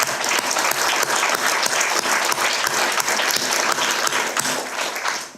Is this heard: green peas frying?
no